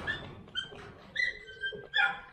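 A large dog gives several short high whimpers and whines in quick succession, fairly close and soft, with quiet pauses between them.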